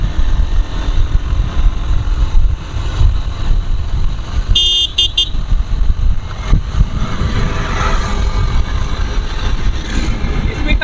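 Yamaha FZS V4 motorcycle ridden in second gear on a road, its engine a loud steady drone mixed with rushing wind, with a brief horn toot from traffic partway through.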